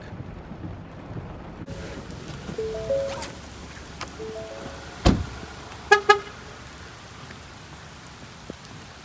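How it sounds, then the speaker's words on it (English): Steady pouring rain drums outdoors in a small neighborhood in Elkton, Maryland, a constant close hiss with a few short car horn toots and sharp clicks breaking through midway. "I'm going to brave the pouring rain and go out there and get a closer look"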